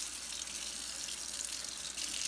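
Water runs steadily from a sink tap to flush corrosive acid out of a Coleman Q99 generator part, a continuous, close, even gushing stream with no pauses.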